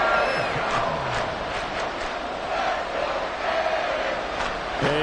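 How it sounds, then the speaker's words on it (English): A stadium crowd in a Madden football video game cheering and roaring, a loud, continuous wash of many voices with scattered whoops swelling again near the end. "Crowd on their feet."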